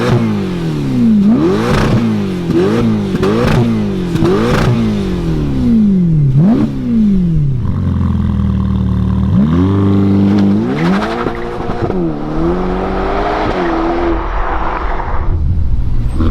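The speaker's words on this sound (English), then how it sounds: "you hear the changement on board this Ferrari Roma with the X pipe" A Ferrari Roma fitted with a Supersprint X-pipe exhaust revs and accelerates hard, engine note climbing repeatedly through quick gear changes, then a steadier drone and a final rising pull, loud and close throughout.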